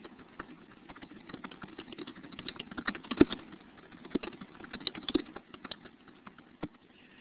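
Rapid, uneven clicking of fingers typing on a computer keyboard, fairly quiet and close, with a few sharper keystrokes standing out and no talk.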